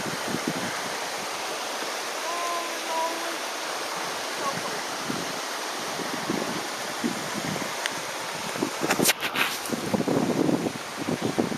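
River water rushes at a swimming hole on the Trinity River, a steady broadband wash of flowing current, moderately close, with faint splashes and brief sounds near the end.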